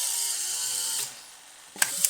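A Polaroid SX-70 instant camera under restoration fires its shutter, a high whirring mechanical hum that cuts off, a brief quiet, then two sharp close clicks at the end.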